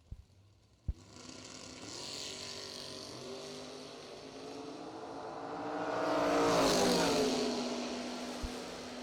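A 1957 Chevrolet drag race car makes its run at the Million Dollar Race. A sharp pop comes first, then a rising engine howl that swells to a loud peak and fades as the car passes.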